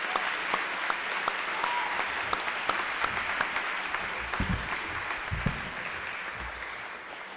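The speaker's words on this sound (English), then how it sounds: "Let's give them a nice round of applause." An auditorium audience at a veterans ceremony claps for the jazz band that played as guests arrived, a dense, sustained wash of applause with a few sharper nearby claps, tapering slightly toward the end.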